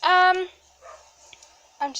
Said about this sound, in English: I need to go like calm the dog down before she woofs the windows out or something